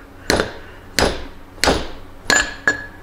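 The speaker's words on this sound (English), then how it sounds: "we're going to hit this with like a slide hammer, and it's going to bring this rubber bushing up" A slide hammer strikes a Harley-Davidson Softail fork leg to free a rubber bushing, giving four sharp metallic impacts at roughly even intervals, each with a brief ringing decay, loud and close.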